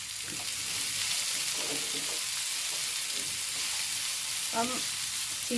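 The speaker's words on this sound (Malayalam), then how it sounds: "ഒന്ന് ഇളക്കി കൊടുക്കാം" Bottle gourd and prawns stir-frying in oil in a pan, a steady faint sizzle with scattered scraping stirs and a few clinks, no talk over it.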